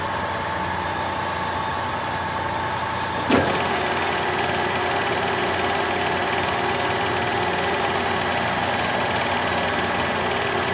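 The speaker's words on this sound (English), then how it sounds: "I'm going to engage that electric clutch right there." A Colchester lathe with a Reeves variable-speed drive runs with a steady, even mechanical hum. A single sharp click marks the electric clutch engaging, and the drive carries on smoothly and unchanged afterward.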